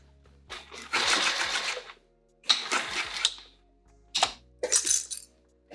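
A sewing machine stitches a clear see-through tote in four short runs of rapid, buzzing needle strokes, each about a second long, separated by brief pauses and close by.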